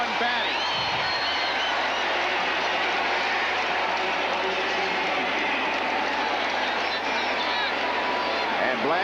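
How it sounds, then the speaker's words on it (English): A football stadium crowd in Indianapolis roars continuously at an NFL game, the Jets at the Colts in 1996, a dense, loud wash of cheering that holds steady throughout, with an announcer speaking over it. "a crowd here in Indianapolis going batty"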